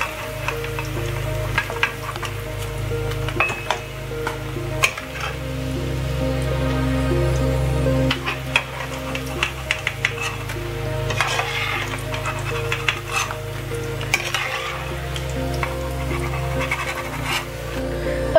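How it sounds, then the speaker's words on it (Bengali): Paneer cubes deep fry in a kadai of oil over a medium-high flame for chilli paneer. A dense, steady sizzle runs throughout, with occasional clinks and clatter as the pieces are lifted out, and there is no talking. "দেখুন এই যে পনিরগুলো আমি ফ্রাই করে নিয়েছি, ডিপ ফ্রাই করে নিয়েছি"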